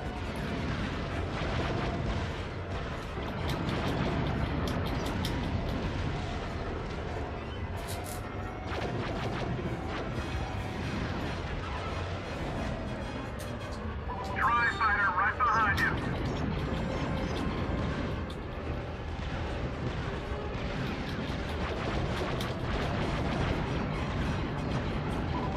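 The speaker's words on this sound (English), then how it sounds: "Ship guns are pounding our shields." Heavy guns on an enemy ship firing in Star Wars Battlefront 2, a dense, continuous barrage of rumbling booms and blasts mixed with battle noise, with voices talking over it.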